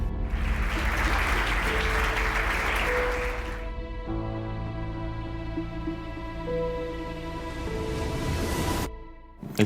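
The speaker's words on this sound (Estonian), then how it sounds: "Ma palun suurt aplausi" An audience at a live podcast recording bursts into sustained applause that fills the first few seconds, then fades as music with steady held tones takes over.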